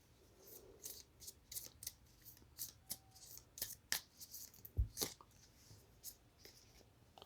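Tarot cards are shuffled and drawn in a close, quiet setting, giving a series of short, crisp papery flicks and snaps in uneven bursts, with no talk over them.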